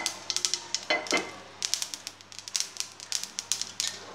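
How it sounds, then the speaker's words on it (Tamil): Mustard seeds splutter in hot oil while making curry leaf chutney, a quick irregular run of sharp, crisp pops over a faint sizzle, close and clear, densest toward the end. "கடுகு பொரியட்டும். பாருங்கள், கடுகு பொரியுது."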